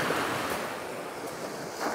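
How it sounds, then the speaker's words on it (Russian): Sea waves breaking at Mamaika beach in Sochi, a soft continuous wash of surf with faint swells and light wind, fairly quiet and distant, without voices. "Ой-ой-ой. Прям волны."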